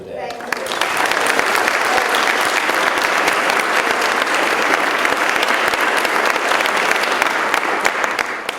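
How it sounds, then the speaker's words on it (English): Dense, sustained applause from a lecture audience welcoming a guest, loud and close, rising quickly at the start and holding steady throughout. "please give Sonali a warm applause if you're here today"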